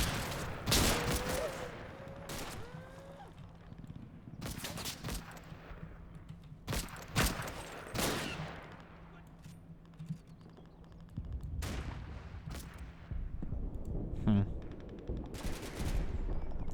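Bursts of .30 calibre machine gun fire from a window in Combat Mission: Battle for Normandy, short rattling volleys separated by pauses over distant battle noise, with faint clicking between bursts.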